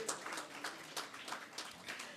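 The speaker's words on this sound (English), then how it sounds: "I hope you all are happy enough to give a round of applause to the ministry" An audience at the IIJS Signature 2022 inauguration ceremony claps briefly, sparse and fairly faint, with a handful of distinct claps spread over a couple of seconds.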